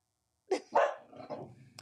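A puppy lets out a short burst of two or three quick, close barks, then quiet, with no talking.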